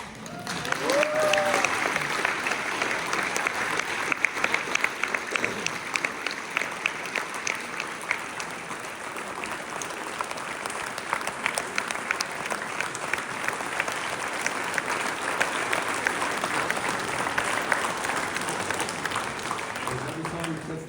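Audience applause for children at a parish nativity service in Čemerné, Slovakia: dense, steady clapping from a large crowd lasting the full length, loud and continuous with no letup.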